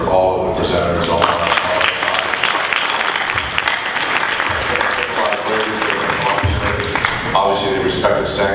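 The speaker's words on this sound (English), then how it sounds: "I'd like to actually have a round of applause for all of the presenters" An audience applauds presenters at an entrepreneur showcase, clapping steadily and loudly throughout, with a few voices audible among the clapping.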